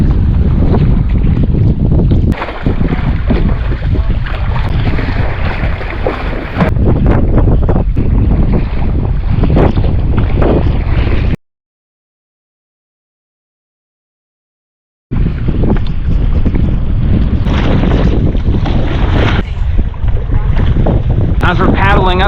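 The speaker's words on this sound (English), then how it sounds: "As we're paddling upstream on the Rio Grande River." A canoe is paddled upstream on the Rio Grande, with loud wind buffeting and watery wash filling the sound, broken by a few seconds of silence midway before the windy river noise resumes.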